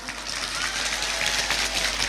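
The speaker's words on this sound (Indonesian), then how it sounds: "Tepuk tangan dulu dong." Audience at a village religious gathering in Jumo, Temanggung, breaks into applause: steady, dense clapping from a sizeable crowd lasting a couple of seconds, fairly loud and even throughout.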